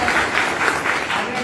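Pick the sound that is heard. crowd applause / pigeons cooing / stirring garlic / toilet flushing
crowd applause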